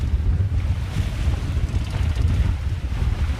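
Wind and waves buffet a sailing boat crossing between Fraser Island and Urangan in about 20 knots of breeze, a loud constant roar of wind noise and rushing water with no voices.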